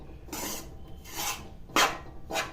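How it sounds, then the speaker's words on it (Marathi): Wheat flour and jaggery being stirred and roasted in a pan, heard as four dry, rasping scrapes of the spatula against the pan at an even pace, close by and without talk. "पण सारखं हलवत राहायचं नाहीतर मग खाली चिपकून ते करपण्याची शक्यता असते"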